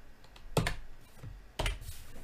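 Keys clacking on a computer keyboard while writing C++ code, two distinct clusters of sharp, close taps separated by a short pause, with no voice.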